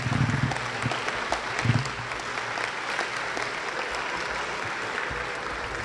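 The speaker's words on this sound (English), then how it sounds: "please give yourselves a huge round of applause" Sustained applause fills a high school hall during a town hall meeting with congressional representatives, a steady broadband clatter of many hands clapping throughout, with a few louder bursts near the start.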